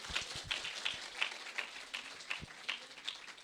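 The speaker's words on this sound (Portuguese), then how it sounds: "Uma salva de palmas, por favor." A small audience claps for a guest speaker at a Portuguese-language talk, with faint, thin, scattered hand claps at a steady pace and no voices over them.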